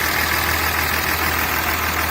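A 2009 Dodge Ram 2500 pickup's Cummins 6.7-liter inline-six diesel idling steadily with a dense, even rumble close by, no voices over it.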